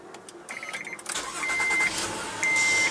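Electronic chimes beep in a short series, then a 2016 Honda Odyssey's 3.5-liter V6 cranks and settles into a steady, smooth idle with another long beep over it.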